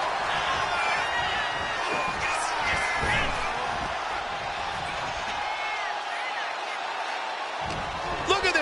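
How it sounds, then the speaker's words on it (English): A dense arena crowd roars and cheers continuously in a wrestling video game, a steady wash of noise with commentators talking over it throughout. "Look at this crowd."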